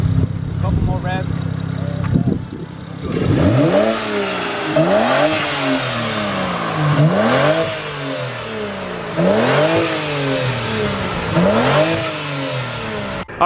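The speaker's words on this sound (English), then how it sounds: "hopefully you can hear the blow-off valve." A BMW E92 335i N54 engine with an HKS blow-off valve revs repeatedly in a steady rhythm, each rev climbing then dropping off with a whooshing release, close and loud.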